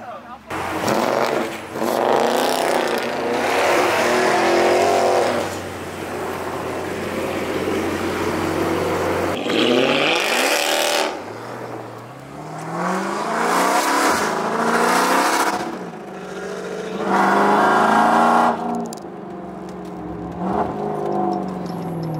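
Dodge Hellcat and Scat Pack muscle cars revving at a street cruise in Chicago, loud roaring engine bursts rising and falling with tire noise, close by, with people talking over and between the revs.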